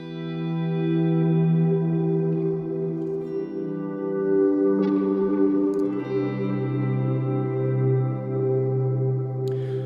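Sustained electric guitar tones swell in slowly and hang in the air, washed in echoing delay and lush reverb, with shifting ambient chords.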